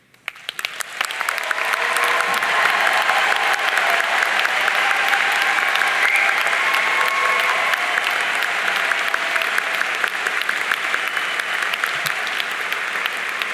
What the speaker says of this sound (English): so that we may applaud your remarkable academic accomplishments